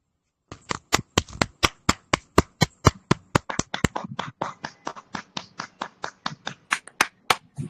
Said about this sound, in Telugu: All of you loudly claps.